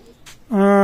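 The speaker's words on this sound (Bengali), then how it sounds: "আমি কিছু নতুন কবুতর দেখাবো" A Pakistani teddy pigeon gives one close, loud, sustained coo after a brief soft rustle.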